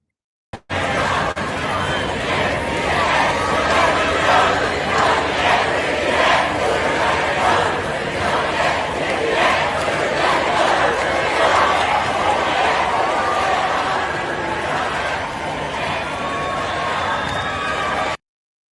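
A large festival crowd at the Sunny Hill Festival in Kosovo roars and chants, with dense cheering and shouting that swells in rhythmic waves and stays loud and close throughout.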